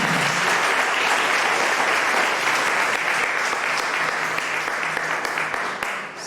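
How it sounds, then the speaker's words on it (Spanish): Loud, sustained applause from a large church congregation, dense steady clapping throughout with a slight fade at the end. "un aplauso fuerte para el Señor"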